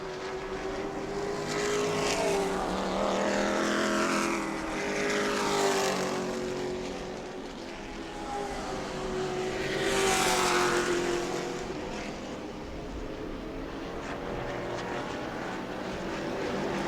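Pro Trucks race past on an oval track during a qualifying and practice session at New Smyrna, engines rising and falling in pitch as they sweep by at a distance, with several passes overlapping.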